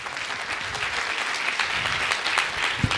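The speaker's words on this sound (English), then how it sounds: "please give him a good round of applause" Loud, steady applause from a full audience at a TeachCamp education event, sustained throughout with dense overlapping claps and one sharp low thump near the end.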